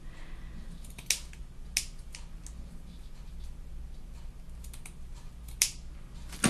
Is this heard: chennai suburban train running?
no